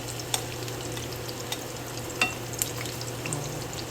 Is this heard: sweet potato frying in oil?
yes